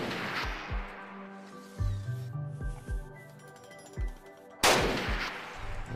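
Video-game gunfire from a precision turret in RimWorld, with several sharp shots spaced a second or so apart over a faint electronic background, followed by a louder burst near the end, with no talk.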